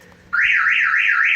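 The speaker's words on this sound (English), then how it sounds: "Guess I set my alarm off." Car alarm of a Mazda Miata going off during a jump start, a loud, close electronic siren that abruptly starts and sweeps up and down in a steady warbling cycle.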